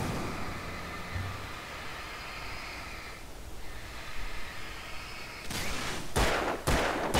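Gunfire in the Alan Wake video game: a few sharp, loud shots burst out near the end, following several seconds of steady ambient game noise.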